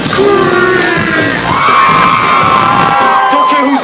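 A concert crowd in Burlington screams and cheers loudly and continuously, a dense wall of shouting voices with whoops rising over the roar throughout.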